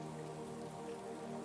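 Raindrops fall in a soft, steady patter, a quiet continuous wash of drips with a low tonal hum beneath and no voices.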